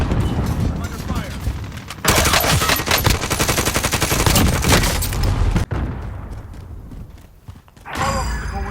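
Gunfire in Call of Duty Warzone, a firefight with an XM4 rifle, loud automatic bursts and rapid shots pounding steadily through most of the stretch, a brief pause, then more shots, with game voice lines in the mix.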